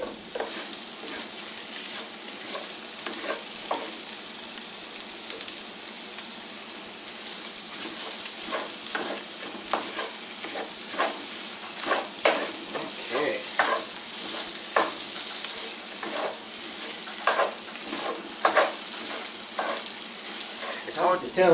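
Garlic frying in a pan on a stovetop with tomato sauce spattered around, a dense crackling sizzle running throughout and frequent stirring scrapes and clicks.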